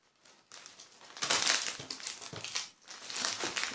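A plastic sachet of sweet snacks from a subscription box being unwrapped, steady close crinkling and crushing of plastic wrap lasting several seconds with no talking.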